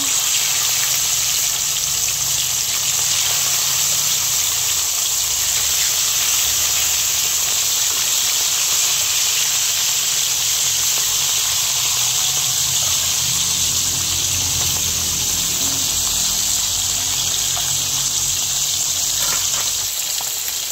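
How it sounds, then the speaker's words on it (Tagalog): Fish sizzling in hot oil in a pan, frying for escabeche: a steady, dense hiss with crackle that runs unbroken and fairly loud the whole time, with no talk over it. "Ayan, at nagpiprito na po tayo ng isda."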